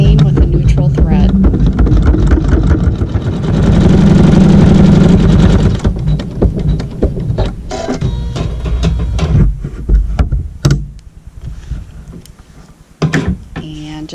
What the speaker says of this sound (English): we can go ahead, we're sewing the seam with a neutral thread